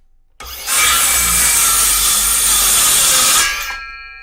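A cordless circular saw rips through a wooden board in one loud, steady cut of about three seconds, starting abruptly and winding down at the end, with no talking.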